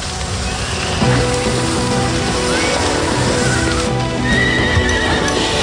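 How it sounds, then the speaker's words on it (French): Horses whinny loudly amid a busy, noisy scene in an animated series, with hooves clattering and shifting throughout and a second sharp neigh near the end. "Les chevaux!"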